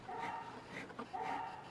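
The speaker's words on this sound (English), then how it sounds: "sorry about my dog. He is wanting to bark all day today." Two soft, muffled barks from a house dog sound a short distance away indoors, with quiet room tone between them.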